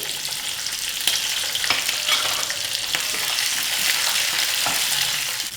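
Green and dried chilies fry in hot oil with a continuous bright sizzle, punctuated by small pops and the occasional scrape of a stirring spoon, close and steady without any voices.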